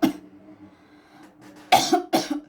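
A person coughs once sharply, then twice more in a quick burst, close and alone in a quiet room.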